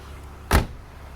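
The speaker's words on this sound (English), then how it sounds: "close this door" A single solid thud of a BMW Z3 car door shutting, short and close, against a quiet background.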